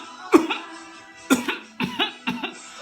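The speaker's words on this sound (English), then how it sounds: "Are you coughing?" A person coughs close by in five sharp bursts: one isolated cough, then a quicker cluster of four harsh, chesty coughs with short gaps between them.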